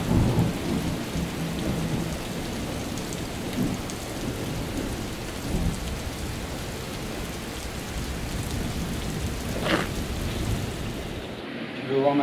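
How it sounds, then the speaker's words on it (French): Steady rain patters throughout while low thunder rumbles in the distance, with a brief louder crackle near the end before it cuts off. "On entend le tonnerre au loin."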